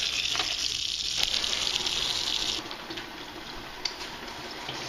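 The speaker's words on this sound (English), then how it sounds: "So I'm going to finish rinsing these off." Faucet water gushes into a kitchen sink while beans are rinsed for ham and bean soup, a loud steady splashing rush that drops to a softer trickle partway through.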